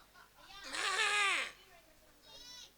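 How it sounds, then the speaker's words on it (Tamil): A goat bleats once, loud and close, in a long wavering cry, followed by a shorter, fainter second bleat near the end, with no talk over it. "ஆடு முறையே கத்துறாண்ணே கத்துறா"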